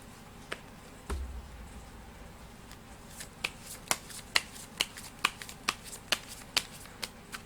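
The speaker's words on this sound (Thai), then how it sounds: "เดี๋ยวจะมาเสี่ยงไพ่ดูให้เพิ่มเติม" Playing cards shuffled for a fortune-telling card draw, a series of crisp riffle snaps and flicks, close and fairly loud, arriving in a quickening rhythm with no voice over them.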